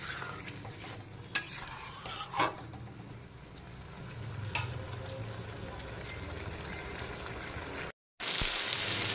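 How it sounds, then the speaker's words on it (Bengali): Spice masala for a prawn curry being sautéed in a pan over medium flame, with a steady soft sizzle, scattered spatula scrapes and clinks, and a brief dropout near the end before the frying noise returns, no voices. "বাকি ভাজাটা বা কষানোটা করে নিতে হবে"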